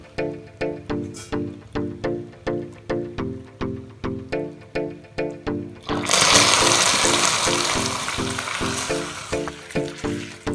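Hot water poured into a pan for homemade soy sauce hits with a sudden loud sizzling hiss midway, breaking over a steady rhythmic mechanical pulsing that carries on throughout and continues under the fading sizzle.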